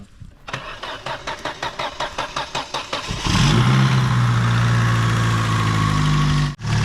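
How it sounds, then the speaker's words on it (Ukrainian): A used car with petrol and gas fuel cranks with a rapid starter whirr for about three seconds, then catches and settles into a loud, steady idle close by, with a brief dip near the end. "вона заводиться на бензині і зразу автоматично перекидається на газ"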